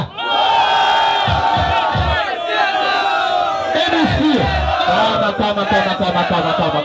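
A large crowd at a freestyle rap battle in São Gonçalo roars, cheering and shouting loudly in a sustained wave to vote for a rapper, with whoops and yells rising and falling throughout.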